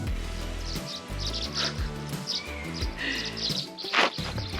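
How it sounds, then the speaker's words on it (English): Wild birds chirp and sing outdoors in nature, small bright calls scattered over a busy, music-like background with steady tonal layers underneath. "These birds are so chatty."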